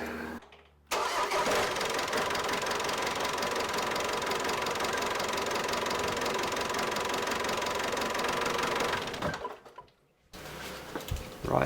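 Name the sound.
Ford Transit engine starting and idling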